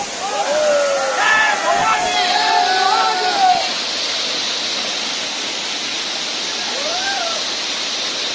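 Bhagirath waterfall near Mumbai, a steady loud rushing roar of falling water filling the whole scene, with voices and shouts heard over it near the start.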